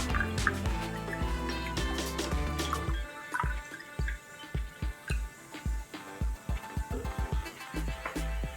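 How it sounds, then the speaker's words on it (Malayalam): Cold water poured into a glass of mint lemon squash, a steady liquid fill with splashy drips and light clinks. It is close and moderately loud, and the first few seconds also carry a tonal background. "പിന്നെ ഇതിലേക്ക് തണുത്ത വെള്ളം ഒഴിക്കാം"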